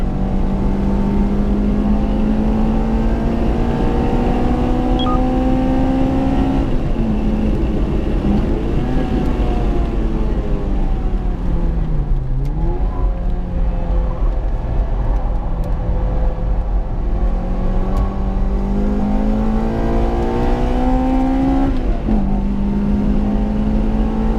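A Toyota Corolla T Sport fitted with a K&N air filter, driven hard on a fast track-day lap: a loud, steady engine note that climbs through the gears, drops under braking, then revs back up, heard alone without talk.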